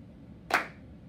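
A single sharp hand clap, struck on the fourth count of an Electric Slide line dance, rises briefly and cleanly out of a quiet room.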